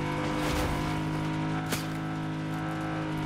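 A car in Fortnite drives with a steady, droning engine hum that holds throughout, with a brief swell partway through, close and continuous with no talking.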